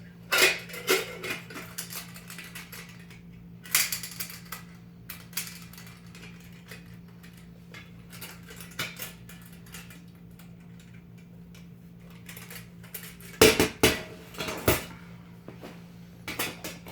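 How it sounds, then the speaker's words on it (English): A metal camping pot, stove and fuel canister are handled up close, giving scattered clinks, light metallic taps and scrapes in irregular bursts, with a louder cluster of clatter near the end over a faint steady hum, no talk. "So this is obviously the pot. And then in here I have the stove."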